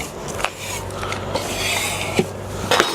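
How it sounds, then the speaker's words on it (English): Paint stripper being scraped off a wooden surface during refinishing: a few short rasping scrapes stand out over a steady background hum, close and moderately loud, with no talking. "let me scrape that off"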